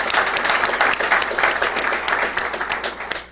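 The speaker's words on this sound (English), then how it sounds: "how about a round of applause for all of our presenters" Audience applauding presenters at an evening board and committee orientation, a full, steady burst of many people clapping that begins to fade at the end.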